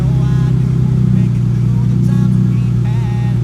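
A car engine idles steadily and close by as the vehicle coasts off slowly in neutral, a low continuous rumble running unchanged throughout with no revving.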